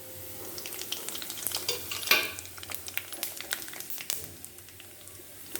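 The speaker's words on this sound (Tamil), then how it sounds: "பொரியிறது பாருங்கள், நன்னா பொரியிறது." Whole spices such as poppy seeds, fennel and cinnamon crackle and sizzle in hot oil, with steady popping and frying close up and an occasional stir or scrape of a utensil against the pan.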